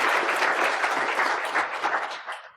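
An audience at a conference talk gives a short, dense burst of applause for the speakers that fades away toward the end.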